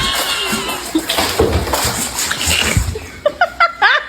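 A cat jumps into water, with loud splashes and sloshing up close, then sharper short splashes near the end as it thrashes around.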